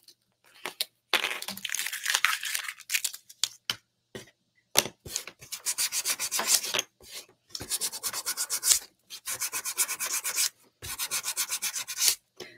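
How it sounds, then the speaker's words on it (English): Hand sanding dark-painted wood for a patriotic door hanger: rhythmic bursts of close, raspy back-and-forth rubbing strokes in several runs, separated by short pauses. "Generally, when you're sanding wood, you just want to go one direction."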